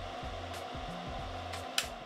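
A fume extractor fan runs during soldering work on an Iron 165 R2 keyboard build, giving a steady, airy whir that holds level throughout with music playing behind it.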